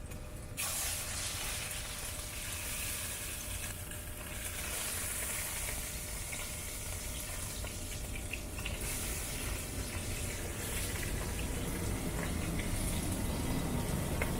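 Salmon searing skin side down in hot oil in a pan, pressed with a spatula, giving a steady, continuous sizzle and hiss that stays even throughout.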